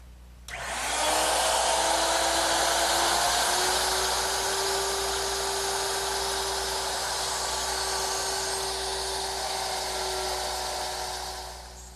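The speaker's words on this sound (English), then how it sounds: "I've changed the bit to 1/4 inch, and I'll just mortise each of the legs" A router with a quarter-inch bit cuts mortises into thick wooden table legs, a loud continuous high whine that spins up sharply, holds steady for about ten seconds and then tapers off, with no talk.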